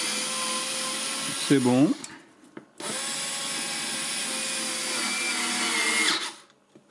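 A Beaspire 4V cordless screwdriver whirs steadily as it works on a furniture screw, with a short pitch-bending rev near the start, a brief pause, then a long continuous motor run before stopping; a voice speaks briefly.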